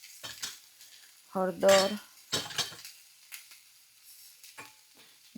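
A spoon scrapes and clinks against a pan as spices are stirred into frying garlic potato curry, several distinct knocks and scrapes spread over a few seconds, with brief spoken words between them.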